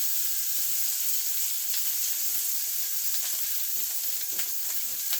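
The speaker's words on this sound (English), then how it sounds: "let's heat these hamburger steaks up a little bit, just a little bit, and add them to go ahead and add those to the gravy" Hamburger steaks sizzle and fry in gravy over high heat in a small off-grid RV kitchen. The crackle is steady and close, with occasional stirring clicks and no talk.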